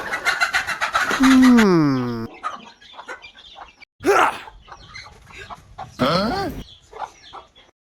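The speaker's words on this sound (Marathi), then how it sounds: "आईला गा कोंबडी तर सुटली" A chicken squawks and clucks in three loud bursts, with quieter scuffling and rustling in between.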